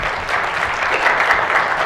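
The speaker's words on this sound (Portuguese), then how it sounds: "Aplausos para os nossos ajudantes." A church congregation breaks into steady, dense applause for the service helpers, a continuous wash of many hands clapping close by with no talk over it.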